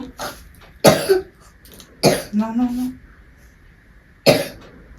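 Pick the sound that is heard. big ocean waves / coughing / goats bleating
coughing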